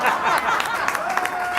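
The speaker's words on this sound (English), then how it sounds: "Even the bartender claps, standing ovation" Audience applause at a comedy routine, a dense burst of clapping with some crowd noise and light laughter, close and loud throughout.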